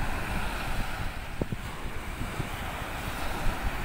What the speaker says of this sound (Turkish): Şöyle denizi göstereyim.